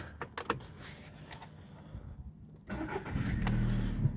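A 2007 Skoda Octavia A5 1.6 FSI petrol engine cranks and catches, settling into a steady idle after a few clicks and rustles.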